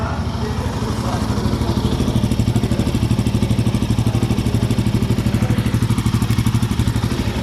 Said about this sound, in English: Look at the thump on the idling